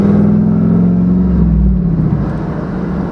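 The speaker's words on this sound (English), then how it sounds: "the better I hear this exhaust, and it sounds way better" An LS-swapped GMC Sonoma pulls away with a loud, deep engine and exhaust rumble from close by, the low drone swelling as it accelerates and then settling into a steady cruising growl.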